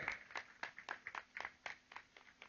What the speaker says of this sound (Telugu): మన ప్రీతమ గురువు బ్రహ్మర్షి పితామహ పత్రిజీ గారికి ఒకసారి గట్టిగా చప్పట్లు కొడదాం